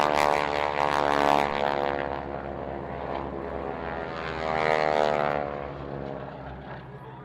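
A propeller aircraft drones steadily overhead as it positions to land at the Fairford airshow, a loud sustained engine hum that swells and fades slightly with no talk over it.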